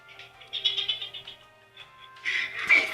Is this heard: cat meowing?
yes